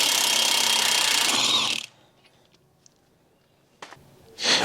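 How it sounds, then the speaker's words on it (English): An impact wrench hammers loudly in one sustained burst of about two seconds while loosening a 32 mm axle nut on a Chevy Volt. A short quiet gap with faint clicks follows, then a brief second burst near the end. No one speaks. "I'm using a power tool, an impact, which I highly, highly recommend"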